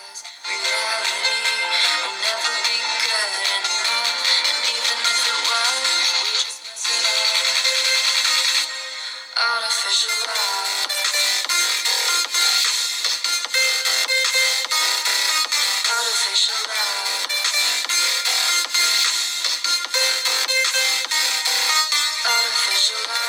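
Audio plays through the single bottom speaker of a Moto e22s phone, a thin, bright, tinny sound lacking any bass, fairly loud and continuous with one brief dip near the middle.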